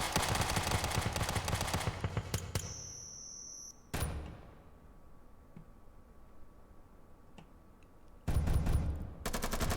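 Bursts of rapid automatic gunfire from a Counter-Strike style match, fired through walls, loud at the start and again near the end with a quieter gap between.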